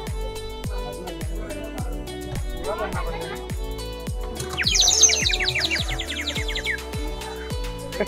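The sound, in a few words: toy bird whistle imitating bird chirping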